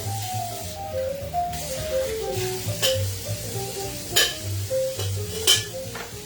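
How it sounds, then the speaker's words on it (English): Bar utensils are rinsed under running water at a home bar while cocktails are made, a hissing flow with a few sharp metallic clinks, set against background music. "I'm just gonna rinse these out"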